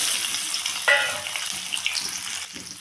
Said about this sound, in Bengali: দিয়ে দেব সেদ্ধ করা আলু